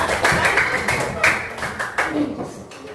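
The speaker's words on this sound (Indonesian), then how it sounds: "beri aplaus dulu untuk kelompok 2" A classroom group claps for a presenting team, a dense run of hand claps filling the moment alongside chatter and voices, steady then tapering.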